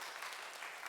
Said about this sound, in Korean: 반가워서 우리 박수가 나옵니다